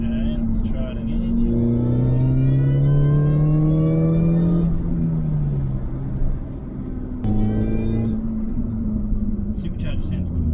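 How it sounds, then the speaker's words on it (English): Mini Cooper S with a 15% supercharger pulley upgrade revving while driving, its rising supercharger whine over a loud steady engine drone, easing off then building again as the car picks up speed. "Supercharger sounds cool."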